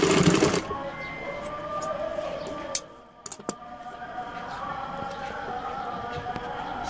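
A sewing machine runs in a short loud burst while stitching folded quarter-inch piping on a baby boy's dress, then scattered clicks and handling noises follow under a quiet background.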